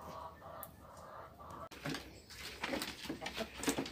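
Farmyard chickens clucking in a short burst of close, choppy calls after a quieter stretch with faint background rustle and distant clucks, on a rural farm.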